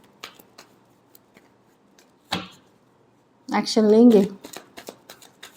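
Tarot cards get shuffled in a short papery burst, then another longer riffle that runs under a speaking voice, with faint handling rustles around them.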